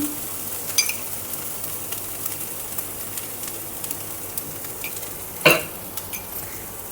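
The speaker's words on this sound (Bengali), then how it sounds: "এবার এই মশলাটা আমি তিন তিন মিনিট মতন ভেজে নিয়েছি" Spice paste for prawn malai curry frying in a pan, a steady soft sizzle with occasional spoon scrapes and one sharper clink of utensil against the pan.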